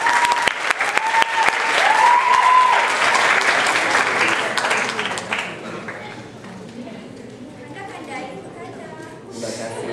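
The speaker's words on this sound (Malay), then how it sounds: "Berikan tepukan gemuruh untuk peserta simpanan." Thunderous applause for the reserve contestants at a pantun competition final, loud dense clapping that swells early, then gradually thins and fades into scattered claps and murmuring.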